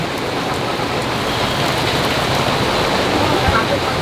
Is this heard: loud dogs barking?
no